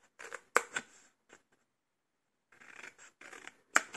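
Scissors snip small tabs on either side of a piece of paper in short close crisp cuts, a few clustered bursts separated by a silent gap, faint and without speech.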